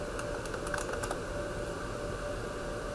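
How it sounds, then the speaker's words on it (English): Quick keystrokes on a computer keyboard as regedit is typed into a Windows search box, a short burst of light clicks up close over a steady background hum. "In the search box, we're going to type in regedit."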